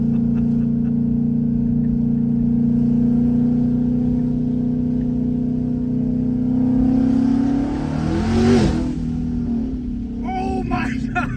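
Modified exhaust on a twin turbo Mustang, a deep steady idle rumble that swells into a rev around the middle before settling back to a low drone, loud and close.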